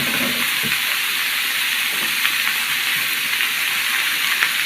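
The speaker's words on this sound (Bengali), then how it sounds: "চুলাটা একটু লো বিমে রেখে ভাজি করতে হবে, না হলে নিচে লেগে যাবে।" Sweet pumpkin frying with garlic paste in a pan on low heat, a continuous close sizzle and crackle with soft stirring scrapes and a few faint pops, no voices.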